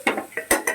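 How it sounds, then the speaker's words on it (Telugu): A metal lid settles onto a cooking pot of sea fish curry, giving four or five quick, sharp metallic clinks and rattles close by. "మూత పెట్టుకోవాలి"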